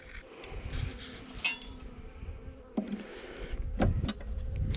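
Honey bees buzzing at an opened hive that was recently split, a steady close drone with a few sharper bursts as bees fly near, no talking.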